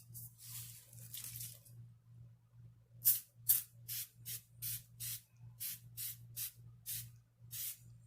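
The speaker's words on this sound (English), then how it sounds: "I'm gonna go ahead and spray my face once more" Face setting spray mists out in a rapid series of about a dozen short, close hissing puffs, following some softer rustling, with a steady low hum underneath.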